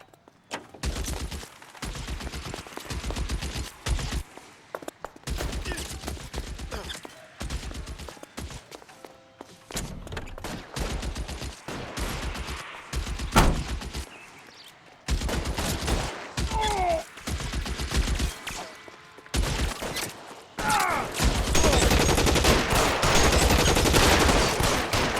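Shootout in the L.A. Noire video game, with repeated bursts of close gunfire in clustered volleys and short pauses between them, growing denser and more constant toward the end.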